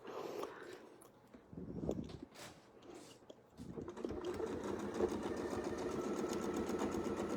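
A domestic sewing machine runs steadily while stitching a straight line along a ruler-style quilting template, a brief burst near two seconds giving way to a continuous close, even whir from about three and a half seconds on.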